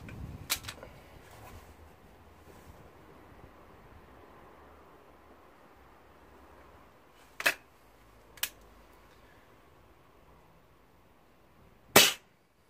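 A brand-new Weihrauch HW99S air rifle fired on a range, giving a few sharp, isolated cracks with quiet pauses between, the last shot loudest and close.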